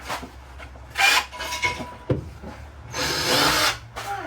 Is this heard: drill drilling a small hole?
yes